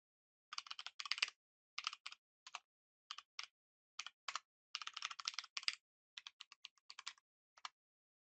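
Bursts of rapid keystrokes on a computer keyboard while SystemVerilog code is entered in QuestaSim, clicks clustered in short runs with brief pauses between them, close and fairly quiet, with no talking.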